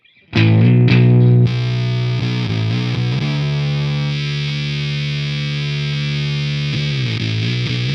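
An electric guitar played through a Walrus Audio Fundamental Series fuzz pedal gives thick, saturated tone: two short stabs, then a long sustained chord with a few changes, loud and close.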